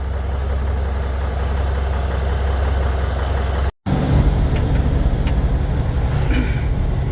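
An 80s car engine idles with a steady low rumble, drops out for a brief moment, then resumes rougher and louder with faint higher whistling, running without talk.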